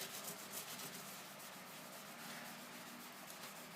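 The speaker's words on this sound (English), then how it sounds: "And what I do, I rub it into each fret," Steady rubbing and sanding-like friction as a product is worked into the frets of a Squier M series guitar fretboard, continuous close scraping strokes with no speech.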